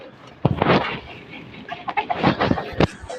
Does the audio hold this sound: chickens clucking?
yes